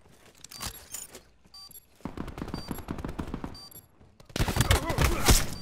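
Rapid bursts of automatic gunfire and single shots in a Search and Destroy match of an online shooter, dense and loud, with a heavier volley near the end, while players talk over the action.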